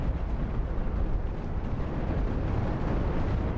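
Chain guns firing a full salvo in Cosmoteer, a dense continuous roaring rumble of rapid fire that holds steady at the same loudness from start to finish, heard alone.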